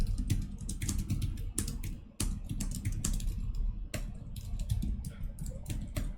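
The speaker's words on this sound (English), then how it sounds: "If I could type correctly." Rapid typing on a computer keyboard, a dense run of close, crisp key clicks with a couple of brief pauses and no talking.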